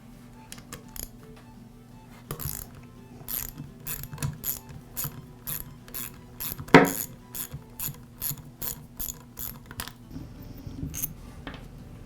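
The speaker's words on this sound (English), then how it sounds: "Now that I have the pump assembly removed from the rest of the compressor, the next step is to remove the head bolts." Head bolts are being removed from an air compressor's cylinder head with a ratchet: repeated quick clicking bursts in an irregular rhythm, close and clear, with one sharper metallic knock midway.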